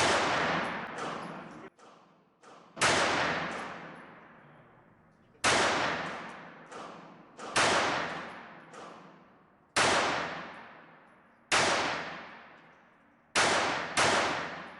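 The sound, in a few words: gunshots from Ortgies 32 semi-automatic pistol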